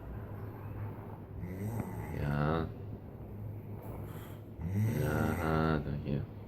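A man snores in deep, rasping, rhythmic breaths, two drawn-out snores close by, with a voice murmuring softly between them.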